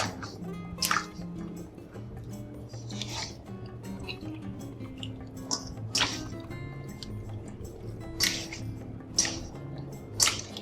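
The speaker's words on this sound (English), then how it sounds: "I'm going to rub in the marinade into the cavity." Wet, squishy rubbing as marinade is worked by hand into the cavity of a raw chicken for Chinese-style roast chicken, with soft repeated drips and squelches over a low kitchen hum.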